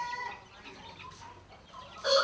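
Farm chickens in Vietnam, raised for sale before the Lunar New Year, cluck steadily at close range with a sharper, louder burst of calls at the end.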